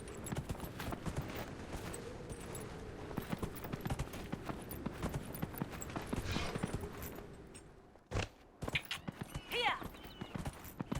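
Rapid rhythmic clip-clop of galloping horse hooves in the video game Dragon Age: Inquisition, loud and continuous, briefly broken near the end, with a voice talking over it.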